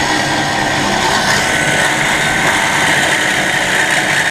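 Stubborn broken exhaust bracket bolt on a truck being cut with a sharp saw, a dense continuous harsh grinding rasp, loud and close, with no pauses.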